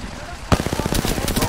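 Gunfire in a video game, with a sharp shot and then a rapid string of close, loud automatic bursts over a murmur of game sound.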